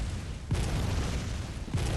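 Cannon in Bloodborne firing twice, each a deep, heavy boom about a second apart over a dense rumbling background.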